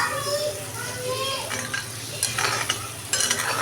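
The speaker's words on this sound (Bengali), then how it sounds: "পটল আলুটার সাথে মশলাটা একটু ভাজা করে নেব," Chopped pointed gourd and potato frying with spices in a pan, a soft sizzle with scraping stirs and a few clinks of a utensil, while a voice calls in the background.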